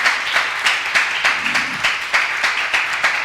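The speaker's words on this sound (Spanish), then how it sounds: "Le damos un aplauso al Rey en esta hora." A church congregation claps in a steady, rhythmic beat, sharp hand claps repeating about three times a second, close and fairly loud, with no talking over them.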